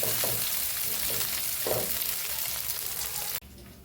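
Fenugreek leaves sautéing in a pan, a close steady sizzle with a few soft stirring scrapes, cutting off abruptly near the end.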